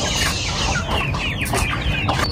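Chickens cluck close by in a dense flock, with overlapping clucks and squawks over a steady noisy background.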